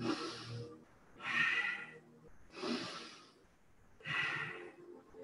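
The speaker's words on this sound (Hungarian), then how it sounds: "ilyen hangosan és szuszogósan fogod venni a levegőt" Loud, deliberate breaths during a tai chi breathing exercise, four long audible inhales and exhales in a slow steady rhythm, close and alone without talk.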